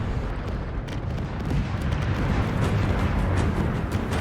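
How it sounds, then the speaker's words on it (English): Large missile explosions strike a big ship in a Solar Conquistadors space combat match, a dense, continuous rumbling barrage of booms that stays loud throughout with no pauses. "Huge explosions on Winfield."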